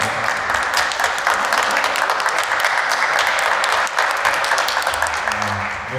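A late-evening Q&A audience claps steadily and loudly for several seconds, a dense, sustained round of applause with no break.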